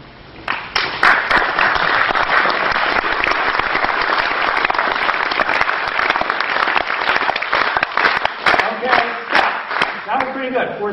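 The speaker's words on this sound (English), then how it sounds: "every group claps at a different rhythm" An audience claps together at a talk, a dense burst of applause that swells quickly, holds steady, then breaks into looser, separated claps near the end.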